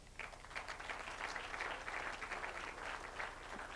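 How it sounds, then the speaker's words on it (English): Crowd at an awards gala dinner clapping for the head of state, a thick sustained patter of many hands in a large room with a low hum beneath and no distinct talk. "allow me to invite you to clap for the head of state for the decision that he made yesterday"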